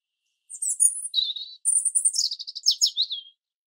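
A sparrow in an Urdu children's moral story chirps in two bright bursts of quick, high tweets and trills, clear and close with no talking over them.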